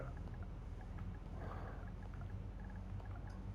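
A boat engine in the video game Fishing Planet runs on the ocean as a steady low drone with a constant rushing wash, even in level throughout with no talking.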